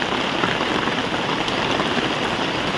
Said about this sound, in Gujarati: આવો કંઈક વરસાદ પડે છે આ બાજુ આપણે ઘરની પાછળ.